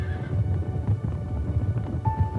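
Horses neigh and whinny amid a cavalry charge against Nez Perce warriors, with busy low rumbling of hooves and commotion throughout, one whinny rising clearly near the end.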